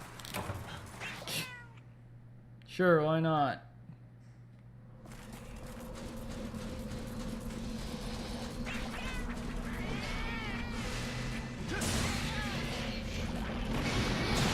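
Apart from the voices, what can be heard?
cat meowing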